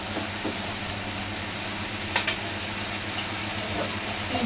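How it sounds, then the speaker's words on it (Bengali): Eggplant frying in a pan for a Bengali tengra fish curry, giving a steady loud sizzle and hiss throughout, with a couple of faint clinks near the middle and no voice. "এখন বেগুনটা আমি একটু ভালো করে একটু কষা নেব।"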